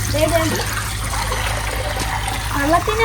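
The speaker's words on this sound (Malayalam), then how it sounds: "ഈ ബക്കറ്റിലോട്ട് ഒഴി" Water splashes into a bucket while a large monster fish tank housing an alligator gar is being cleaned, a steady rushing pour running throughout with voices talking at the start and end.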